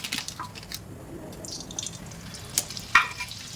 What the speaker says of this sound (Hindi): इसके अंदर अभी हम डाल देंगे थोड़ा सा ऑयल और इसी के साथ में मैं डालूंगी इसमें थोड़ा सा बटर।